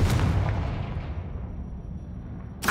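A Confringo fire spell bursts in Hogwarts Legacy with a heavy, booming blast that rolls out and fades over a couple of seconds, then a second sharp impact hits at the end.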